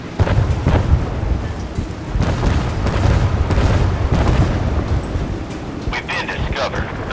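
Heavy naval guns boom repeatedly from a warship in the Force of Warships battle game, with deep rumbling blasts and wind-like roar throughout, and sharper reports near the end.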